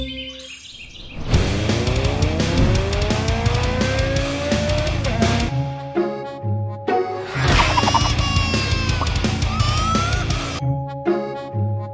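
A car engine revs hard and the car accelerates away at speed with rising whines and tire squeal in two surges, loud and close, mixed with layered sound effects and no talking.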